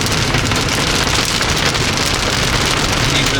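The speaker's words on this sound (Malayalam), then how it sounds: "അതിശക്തമായ മഴയാണ്." Very heavy rain hammering down during a road trip toward Glasgow, Scotland, a loud dense continuous roar of drops, close and unbroken, no talk.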